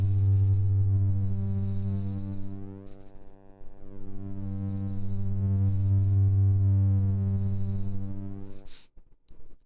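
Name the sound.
sine wave clipped by ANA 2 module min output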